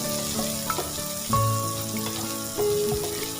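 Chopped onions frying in a pan until browned for a south Indian eggplant curry, a steady close sizzle with light knocks and stirs and a few faint tonal sounds, no talk.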